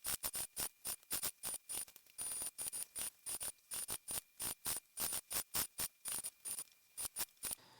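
A sewing machine stitches binding in short separate bursts, each a quick rapid whir, with brief pauses between them as the stitches are taken one at a time, heard up close and alone.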